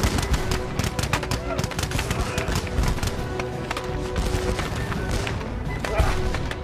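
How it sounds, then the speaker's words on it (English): A musket volley in a snowstorm battle, with Canadian defenders firing on American attackers: dense, loud crackling gunfire that rolls on continuously under a wash of rumbling battle noise. "The Canadians fire a single devastating volley."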